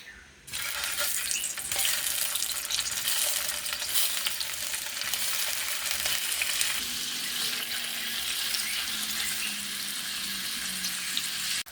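Hotdogs fry in a pan with a loud, continuous sizzle and crackle close by, briefly quieter at the very start and then steady to the end.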